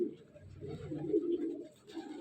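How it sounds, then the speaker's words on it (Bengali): Pigeons of racer, madraj and giribaz breeds coo softly at a rooftop loft, a low continuous burbling that is fairly faint and close, with no speech. "বিশাল বড় জায়গা, প্রচুর পায়রা।"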